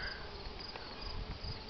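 Honeybees from a hive started as a package two years earlier, a steady, faint insect buzz with a constant hum and no voices.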